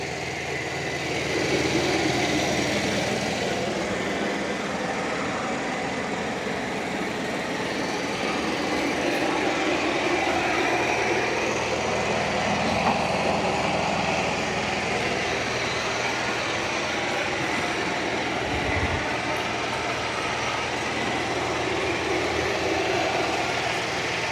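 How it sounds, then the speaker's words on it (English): A Shark Matrix Plus 2-in-1 robot vacuum and mop cleans a floor, giving a steady, close, fairly loud whirring motor drone with broadband brush hiss that holds unbroken throughout, with no voices over it. "It's doing a good job of vacuuming."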